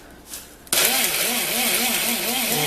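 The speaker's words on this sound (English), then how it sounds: "We're just going to see if we can slide some of this into our grinder because we're going to break it up one more time" A kitchen grinder suddenly starts up to pulverize homemade chicken broth into powder, with a sharp onset followed by a loud, steady, wavering whir that dips and rises in pitch as the contents tumble.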